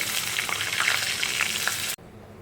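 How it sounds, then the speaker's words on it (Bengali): Paneer and spices fry in oil with a little butter, giving a dense, steady sizzle with small crackles that cuts off abruptly near the end, leaving quiet. "এখানে দেখো তেলের মধ্যে একটু বাটার দিয়ে দিয়েছি"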